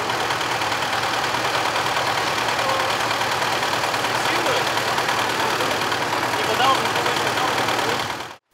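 A tractor engine runs steadily at a tractor driving contest, a broad continuous mechanical drone that stays loud throughout before cutting off abruptly at the end.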